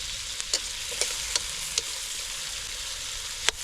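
Food sizzles and crackles steadily in a hot pan with tomatoes, with a few sharp clicks of a utensil scraping or tapping at irregular intervals.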